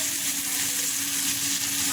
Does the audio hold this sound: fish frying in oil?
yes